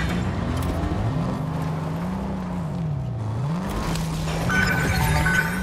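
A car's engine in the Fortnite video game runs continuously, its pitch rising and falling as it revs and accelerates, with faint tire noise and game sounds over a steady, moderately loud drone.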